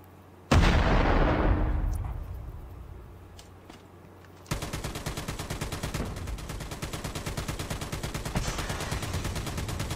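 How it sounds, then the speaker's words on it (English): In COD Mobile, a loud grenade blast erupts and rumbles away, followed by rapid sustained gunfire aimed at a tank, sharp repeated shots continuing to the end. "Two of the custom grenades didn't blow up the tank, plus my shots on top of that."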